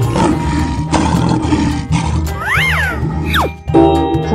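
A lion roars loudly and close in a series of bursts, each a deep growl that rises and falls, set over a busy backdrop of bright music and effects.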